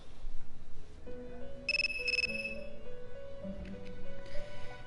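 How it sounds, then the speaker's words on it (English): A cell phone rings in the video game Persona 3 Portable with two short, bright electronic ring bursts over soft background game music. "Your cell phone is ringing."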